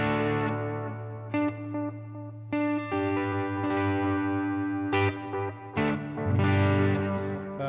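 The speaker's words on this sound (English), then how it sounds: "the Magnetron project from PedalPCB, and it's a clone of the Keeley Magnetic Echo" An electric guitar played through a PedalPCB Magnetron echo pedal, a clone of the Keeley Magnetic Echo, with sustained chords and single notes changing every second or so, echoes trailing behind, loud and unaccompanied.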